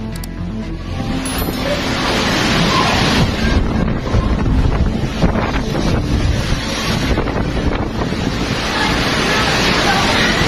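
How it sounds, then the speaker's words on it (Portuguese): Storm wind roars over raging sea waves in Camaligan, Camarines Sur, a loud continuous rushing and buffeting with heavy wind noise on the microphone and crashing surf throughout, with no let-up. "o vento rugia como fogo sobre as ondas enfurecidas"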